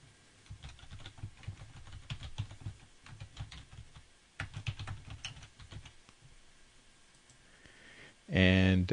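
Keys clatter on a computer keyboard while a new description is typed into a web page builder, a steady run of light clicks with a brief pause midway and a louder burst of sound at the very end.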